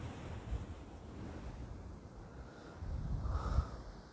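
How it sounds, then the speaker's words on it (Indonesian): Rough ocean surf churns and rumbles at Kedung Tumpang beach in Tulungagung, a continuous low roar that swells near the end, mixed with gusty wind buffeting the microphone and no voices. "Wih ombaknya mas ya banyune"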